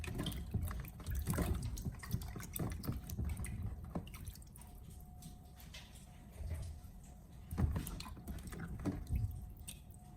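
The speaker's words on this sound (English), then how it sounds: "rinse them with clean water to remove any remaining salt and any dirt or impurities" Tomatoes rinsed gently in clean water, with irregular drips, splashes and trickles close by at a modest level, and no talk.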